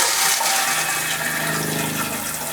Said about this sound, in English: this is a porcelain step flush